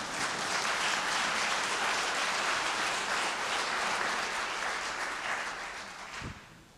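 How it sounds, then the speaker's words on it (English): Church congregation applauding during a sermon, a steady wash of clapping from many hands at moderate distance that fades slightly toward the end, followed by a brief thump. "That's a good place to clap right there"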